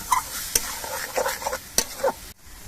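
Spice paste with tomato paste frying in a pan for a prawn and jackfruit curry, steady sizzling broken by sharp spatula scrapes and stirring knocks, close and fairly loud, then a brief drop near the end.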